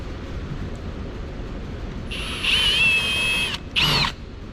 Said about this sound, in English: I'm going to go ahead and screw it in.